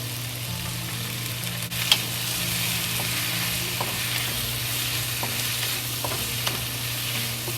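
Vegetables for a pork stir-fry sizzle in a hot pan under a steady hiss and hum, while a utensil stirs and scrapes them in scattered, irregular clacks.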